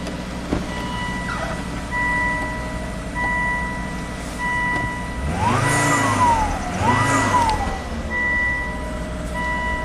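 A Volvo car engine runs steadily just after being repaired, a low even hum underneath intermittent beeping tones and two rising-and-falling whine swells midway through.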